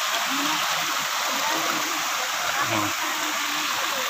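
Fresh cold spring water flowing in a mountain stream, a continuous close rushing hiss with faint voices murmuring underneath.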